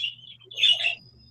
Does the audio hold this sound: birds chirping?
yes